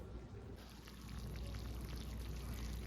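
French onion pork chops bubble hot in a pan with a continuous close crackling, sizzling fizz.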